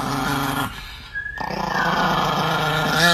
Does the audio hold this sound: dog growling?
yes